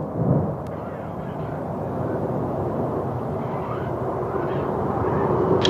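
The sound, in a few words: Soyuz-2.1a rocket launch carrying Progress MS-22 at Baikonur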